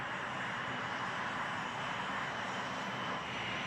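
An A-10 Warthog jet aircraft's engines roar in a steady, loud, broadband rumble that holds unbroken throughout, with no voices over it.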